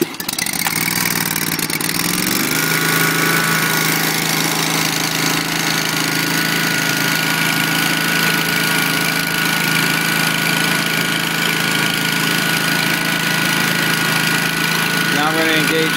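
A 2010 Exmark Turf Tracer Hydro walk-behind mower with a 48-inch deck starts up on choke and settles into a loud, steady, close engine roar with a rattling, knocking edge that continues unbroken throughout.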